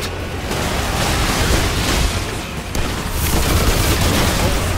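Enemy gunfire in Remnant 2 forms a loud, dense wall of shots and booming blasts that continues throughout without pause.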